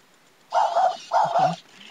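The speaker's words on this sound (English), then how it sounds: "it'll walk and bark." A WowWee Robopet robot dog toy lets out two short electronic bark bursts in quick succession, loud and close, with a faint background hum between them.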